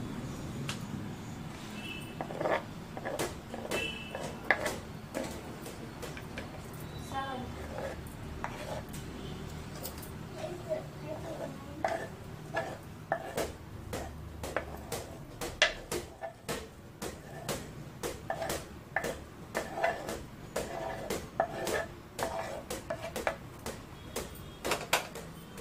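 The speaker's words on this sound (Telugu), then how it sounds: "దీన్ని ఇలా బాగా కలుపుకోవాలి." Sprouts chaat with vegetables and green chillies being mixed in a bowl: a steady run of small clicks and scraping taps from the spoon, fairly close, with no one talking.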